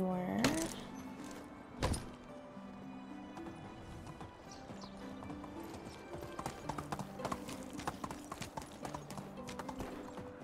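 Horse hooves clip-clop in a steady trotting rhythm while riding in the Medieval Dynasty video game, a close and fairly loud patter over a faint background, with a thud near the start and someone speaking briefly.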